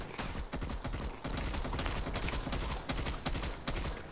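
Automatic gunfire in the shooter game Call of Duty Black Ops Cold War, a dense, loud, continuous rattle of rapid shots with brief gaps, heard up close and alone.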